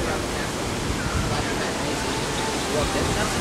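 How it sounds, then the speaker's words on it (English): Waterfall near a restaurant entrance at Disney World's New Fantasyland, a steady broadband rush of falling water that fills the whole clip, loud and close, with faint crowd murmur blended in. "I'm going to go over here to show you guys that waterfall, which I thought was really neat"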